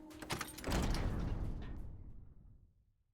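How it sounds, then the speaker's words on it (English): A door in a video game slides open onto a corridor, a single heavy mechanical rumble that swells quickly, holds, then fades out gradually into silence. "A door opens to a corridor."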